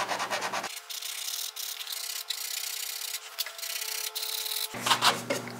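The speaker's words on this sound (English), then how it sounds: "sand back the finish" Steady, close scraping strokes of sanding back the finish on a wooden dining table, a continuous abrasive rub running for several seconds with short pauses at the start and end, no voices.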